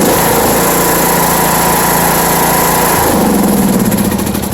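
A Troy-Bilt Pony riding lawn mower with a 17.5-HP 500cc engine runs loud and close, a dense steady buzz that drops to a lower, rougher idle about three seconds in.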